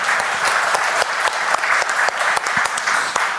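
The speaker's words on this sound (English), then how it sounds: "Round of applause." A round of applause from a live audience, steady dense clapping with a few sharper individual claps standing out, sustained for a few seconds.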